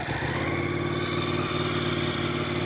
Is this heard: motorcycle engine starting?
yes